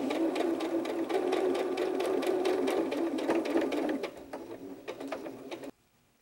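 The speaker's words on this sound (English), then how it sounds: "place the next piece next to it or on the opposite side and stitch that piece into place" Sewing machine stitching fabric pieces of a hedgehog softie, a fast steady rattling run of needle strokes that slows and thins near the end before stopping abruptly.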